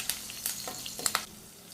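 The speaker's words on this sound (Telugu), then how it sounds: "కరివేపాకును కూడా వేసి పోపు మొత్తాన్ని బాగా వేగనివ్వాలి" Curry leaves and garlic crackle in hot oil for a tempering, with soft, scattered sizzling pops over a quiet, steady frying hiss.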